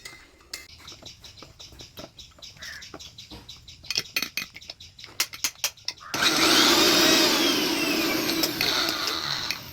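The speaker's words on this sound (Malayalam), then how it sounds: "തേങ്ങ തിരിഞ്ഞെടുത്തിട്ട് നമുക്ക് തോരന് വേണ്ടിയിട്ട് 2 അല്ലി വെളുത്തുള്ളി പിന്നെ ജീരകം ചേർത്ത് അരയ്ക്കാം." A kitchen mixer grinder grinding grated coconut with two garlic cloves and cumin: scattered taps and clinks of the ingredients going in, then the motor kicks in with a loud, steady whirring grind that runs continuously to the end.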